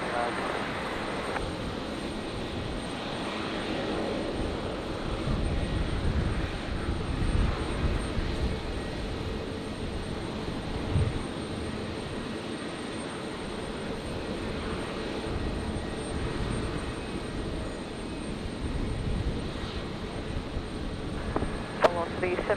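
Aircraft on a runway at Brisbane Airport, a steady broadband engine roar that holds through the whole stretch, with radio chatter from the tower coming and going over it.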